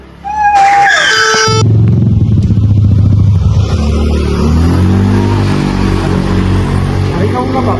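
A motorcycle races close past on a street, its engine rising to a loud revving roar that then fades away, with a brief tone at the start and voices talking over it.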